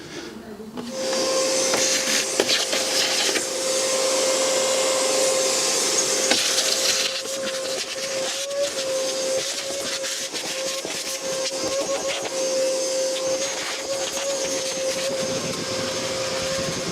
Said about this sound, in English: entire interior now vacuumed out